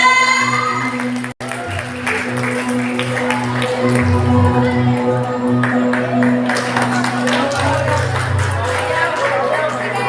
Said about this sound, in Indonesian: Sekali lagi beri tepuk tangan yang meriah untuk halaman 3.